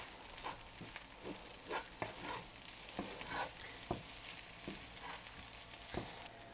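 Sura puttu, crumbled baby shark, fries in a pan with coriander and curry leaves, making a low, steady sizzle broken by regular sharp scraping taps as a spatula turns it, quiet and with no talking.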